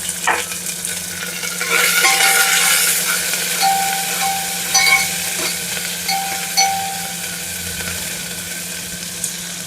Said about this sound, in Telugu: దానిలోకే ఆనియన్ యాడ్ చేస్తున్నాను. ఆనియన్ కొంచెం గోల్డెన్ బ్రౌన్ కలర్లోకి రావాలి.